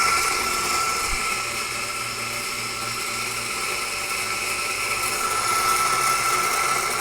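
An espresso grinder, either a Lelit Fred PL043MMI or a Eureka Mignon Specialita, runs steadily for several seconds, giving a dense, even whirring grind close up with no talk.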